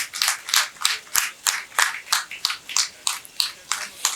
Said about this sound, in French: vos applaudissements vont le faire apparaître ici